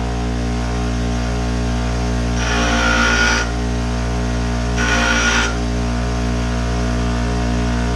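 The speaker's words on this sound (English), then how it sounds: "So we're just grinding on this top face right here." A grinder working the top face of a fuel injector cap, in two bursts of harsh high-pitched grinding over a loud, steady motor hum, each burst lasting about a second.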